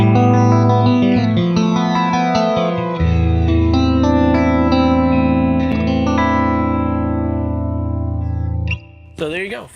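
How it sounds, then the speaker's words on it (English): Strat-style Sparkle Start StoneTone Rock Block electric guitar played with a clean tone in the position 2 pickup setting, sustained chords and notes ringing with chorus-like shimmer, loud and close, ending in a brief noisy flourish. "For all you clean junkies out there, that's going to get you the clean sound as well."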